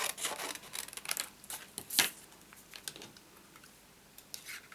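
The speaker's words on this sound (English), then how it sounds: "I need to punch out the trim for his hat." Paper trim for a Santa hat on a handmade Christmas card being cut with a craft punch: soft, close clicks and a sharp punch snap midway, followed by faint rubbing and light taps, no voices.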